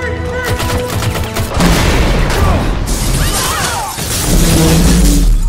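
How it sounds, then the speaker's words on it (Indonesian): Chaotic loud blasts and crashing debris, with sharp bangs like gunfire mixed in, rising and falling in intensity. "Setelah ledakan tersebut"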